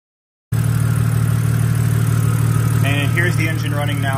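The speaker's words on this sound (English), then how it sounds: "Here's the engine running now. I don't think I've ever shown this engine running. You can hear the lifter tick" A BMW Z4 with the N52 engine idles steadily at close range after a 100K-mile service, a constant low hum with a faint lifter tick beneath it, and someone talking over it partway through.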